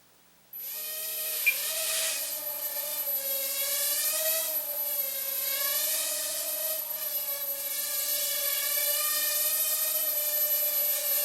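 Blade Nano QX quadcopter drone on its maiden flight, a small multirotor whose high, close whine starts suddenly and holds steady, the pitch wavering slightly as the throttle shifts.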